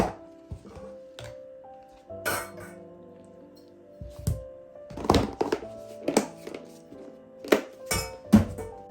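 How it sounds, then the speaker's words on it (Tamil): Chicken marinade with chili powder and egg mixed by hand in a bowl: irregular thunks and clinks of a utensil against the dish, some sharp and loud, over a steady tonal hum. "எல்லாம் சேர்த்து நல்லா மிக்ஸ் பண்ணுறேன்."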